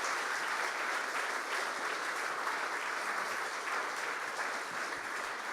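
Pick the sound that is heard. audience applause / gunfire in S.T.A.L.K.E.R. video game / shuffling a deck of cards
audience applause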